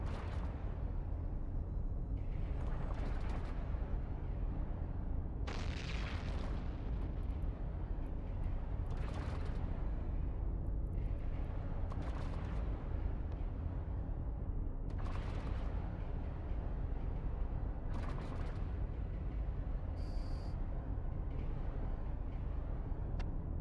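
Spaceships firing auto missiles in a game send out a series of whooshing launches and bursting explosions every few seconds over a constant low rumble, with no talking heard.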